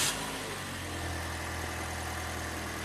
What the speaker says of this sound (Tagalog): pa-start ko na itong makina kay customer